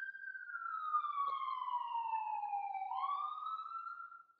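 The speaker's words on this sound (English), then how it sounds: "See, the sirens go off." A single police siren wails with a long descending sweep, then jumps back up in pitch, clear and somewhat distant.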